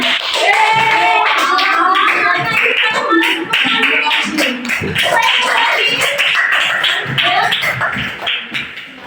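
A school class clapping their hands, a loud, busy patter from many children close by, with voices talking and calling out throughout the clapping.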